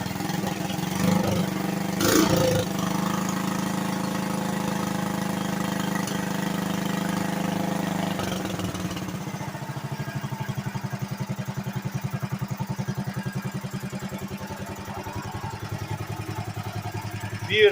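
RJ Wheelhorse lawn tractor, restored as an RJ58, its small engine running in a steady drone that shifts partway through into a faster, pulsing putter as it is revved, close and fairly loud.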